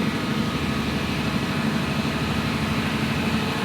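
Loud, steady droning roar of a Caterpillar C280 diesel, close to 4000 horsepower, running inside the engine room of an 8,000 BHP ASD tugboat, heavy low-end throb with no pauses and no voices.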